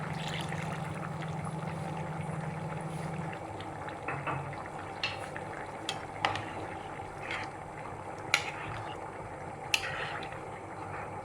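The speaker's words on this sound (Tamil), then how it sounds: "கொஞ்சம் தண்ணி ஊற்றிக்கலாம்." Water is poured into a pot of cooked dal curry, a steady close hiss and trickle with a few soft clinks, and no one talks.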